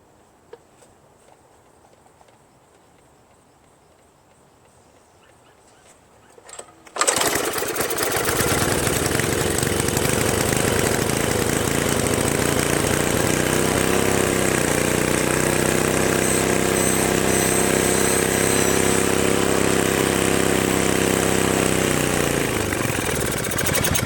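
A Toro Craftsman 522 two-stage snowblower with a Tecumseh engine cranks after quiet seconds, catches abruptly and settles into a loud, steady running drone close by that continues to the end.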